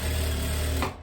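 Sewing machine stitching a long cotton cambric dress at stitch length 3.5, a close, steady continuous whir that stops abruptly just before the end.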